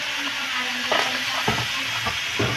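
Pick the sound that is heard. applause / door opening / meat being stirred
meat being stirred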